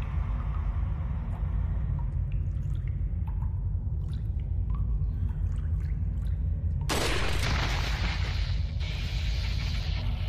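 A single gunshot rings out in the VR game Resident Evil 4, played on a Quest 2, as a sharp loud crack with a short noisy tail that follows several seconds of low ambient game rumble.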